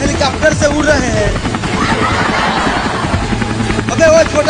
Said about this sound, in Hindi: हम इतने बड़े हेलीकॉप्टर से उड़ रहे हैं